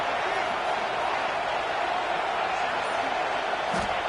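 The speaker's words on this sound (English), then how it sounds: "here comes the noise. This crowd is trying to inspire this defense to make a big red zone stop" Steady roar of a stadium crowd during a football red zone defensive stand, a broad, even wash of noise from thousands of fans that holds at a constant loud level throughout.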